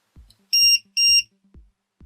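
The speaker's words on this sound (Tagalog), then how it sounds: "Tutunog to ng 2 beep." A Power Wall Mini battery gives two short, sharp electronic beeps in even succession, with faint low clicks or taps around them and no talking.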